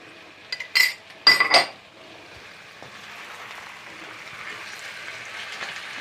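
Spoon stirring potato curry (aloo salan) with crushed red chilli in a metal pot: a few sharp clinks and scrapes early on, then a soft steady simmering hiss, no talking.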